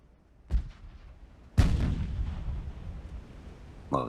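Heavy 6-inch naval guns fire in the Ultimate Admiral: Dreadnoughts warship game, one deep boom followed by a louder blast with a long rumbling tail, then another shot starting at the end.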